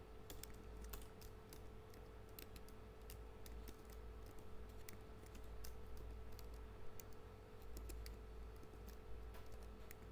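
Faint, quick clicks of a computer keyboard as HTML headings are typed, arriving in irregular bursts against a quiet room hum.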